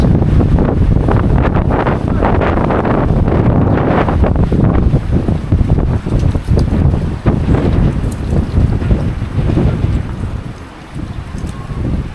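Strong wind buffets the microphone in loud, roaring gusts at an outdoor ball game, rumbling and uneven throughout, easing slightly near the end.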